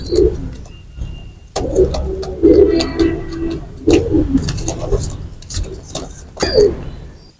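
Two cross-bred pigeons coo repeatedly at close range in low, throaty bursts, with rustling and faint background sounds between calls.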